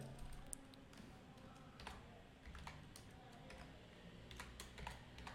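Typing code on a computer keyboard, quiet close-up clicks in an uneven, continuous stream of keystrokes with no voice.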